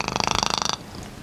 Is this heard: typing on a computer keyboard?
no